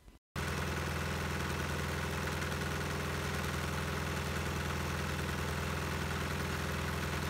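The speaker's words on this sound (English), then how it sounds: "Fast forward a bit and the engine's up and running." A diesel engine burning a blend of vegetable oil and diesel idles steadily and loudly close by, a constant low throbbing hum after a brief quieter moment at the start.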